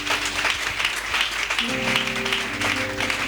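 A church congregation applauding Jesus during a service, a dense, continuous wash of clapping from many hands filling the room, with a sustained tone from music or voices rising underneath partway through.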